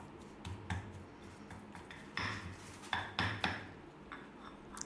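A pestle pounds sour curry paste in a mortar for a Thai prawn sour curry: several sharp, hard knocks land at irregular intervals, close up and clear, with no talking.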